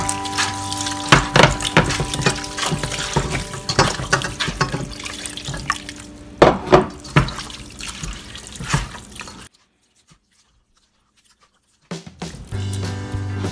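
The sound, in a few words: water being added to a pot for soup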